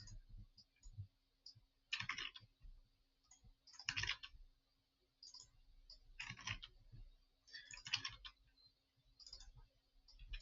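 Computer mouse double-clicks and bursts of keyboard typing, including a Control C copy, come in short clustered bursts with quiet gaps between them, close and fairly soft.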